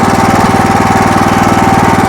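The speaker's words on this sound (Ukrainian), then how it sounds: "Перевіряємо, чи працює роторна косарка. Працює. Роторна косарка працює" Motor Sich MB-13 walk-behind tractor driving a rotary mower, a loud, close engine chugging with a fast, steady knocking pulse and a constant mechanical drone throughout.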